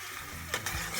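Onions and bell peppers sweating in a pan for Senegalese thieboudienne fish and rice, giving a soft steady sizzle with a brief louder burst of stirring partway through.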